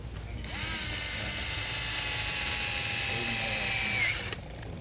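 A handheld power driver spins screws into a servo on an Arrma Mega or 3S Granite, Senton or Typhon RC car, a steady whirring whine lasting several seconds at close range, then stopping.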